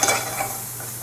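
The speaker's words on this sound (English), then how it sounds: "Just going to give them a stir." Mushrooms browning in a pan are stirred, giving a short close scrape and clatter of utensil against pan over a soft, steady sizzle.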